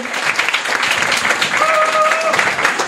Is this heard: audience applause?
yes